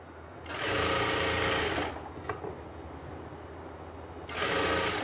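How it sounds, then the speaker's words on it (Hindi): Stitching a kurti seam, a sewing machine runs in two fast, loud whirring bursts, one lasting about a second and a half and a shorter one at the end, with a quiet pause between them. "बिल्कुल सेंटर में एक सिलाई लगाओ"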